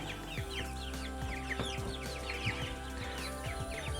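Newly acquired chicks cheep and cluck in a farm setting, a steady busy chatter of many small bird calls at close range with no talk over it.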